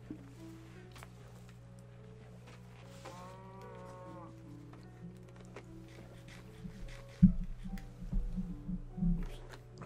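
A cow in the video game Minecraft on Xbox 360 lets out a low, drawn-out moo, quiet and close, followed by soft game clicks and thuds, with no talk over it.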